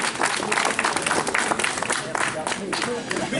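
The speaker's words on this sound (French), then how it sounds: "Ben on les applaudit" Applause from the crowd at an induction ceremony of a French brotherhood, dense, lively clapping throughout at close range, with some crowd noise mixed in.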